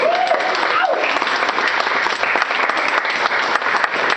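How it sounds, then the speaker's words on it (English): Loud, sustained applause from a crowd at a rock walk induction ceremony, dense clapping throughout with a brief cheer or whistle rising near the start. "Give a round of applause."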